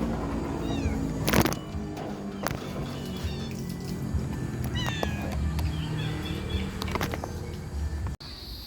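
Cats meow several times at moderate distance over a steady background hum, with occasional clatter and no talking.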